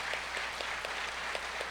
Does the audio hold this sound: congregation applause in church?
yes